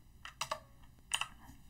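Typing on a computer keyboard comes as two short clusters of crisp key clicks, a few keystrokes each, soft and close in an otherwise quiet room.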